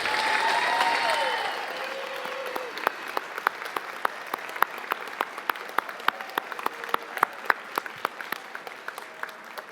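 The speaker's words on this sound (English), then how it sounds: "give you a round of applause" Graduation ceremony audience at Stenberg College applauding, a dense steady wash of clapping with sharp individual claps standing out, alongside faint tonal whistles or calls early on.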